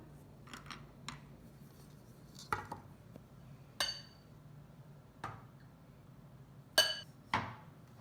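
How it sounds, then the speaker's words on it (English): Turmeric powder being packed down into a capsule-filling tray, a series of sharp, separate taps and clicks spaced irregularly, near and fairly faint, with no talking. "Take part number 4, flip it upside down, and make sure you pack the turmeric down"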